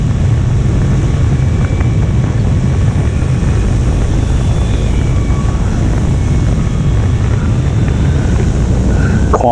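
An RC Sopwith Camel model plane's engine drones steadily at throttle on, a continuous close buzz with wind noise across the microphone throughout, alone without talk.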